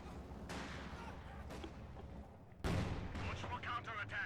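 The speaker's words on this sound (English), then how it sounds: "Sniper takes a shot but loses its spotter." Sniper rifle shots in Company of Heroes 2, a few sharp cracks spaced out over battlefield noise, with the last report louder and closer than the others.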